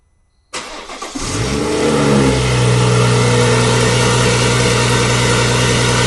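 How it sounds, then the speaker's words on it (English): After a short quiet moment, a BMW M240i's B58 engine, which has injector issues, cranks and catches, revs up, then settles into a loud, steady running hum nearby. "Alright, she's started and running."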